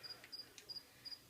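Pet crickets chirping indoors in short bright trills, four evenly spaced bursts repeating in a steady rhythm, faint and close, with no voices.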